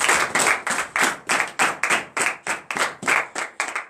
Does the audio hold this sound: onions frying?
no